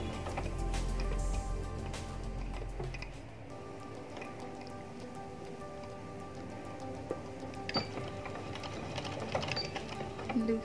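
Sewing machine stitching loops onto fancy sleeves, a steady mechanical whir running throughout at close range, louder for the first few seconds and then settling into a quieter, even hum with small clicks.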